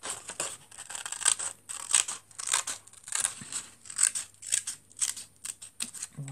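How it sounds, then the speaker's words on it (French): Scissors snipping through card for a Christmas-themed handmade card, a close series of crisp cuts in an irregular rhythm, alone without speech. "J'ai plein de colle sur le ciseau. On va venir découper"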